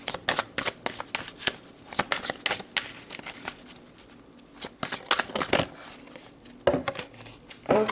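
A deck of tarot cards being shuffled during a card reading: repeated crisp riffling bursts and soft slaps, close by, in irregular clusters throughout with short pauses between.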